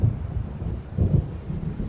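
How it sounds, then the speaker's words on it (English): Low, rolling rumble of an approaching thunderstorm in Alan Wake Remastered, a steady dark swell with two heavier surges near the middle, heard alone without voices. "It seems there's a storm coming."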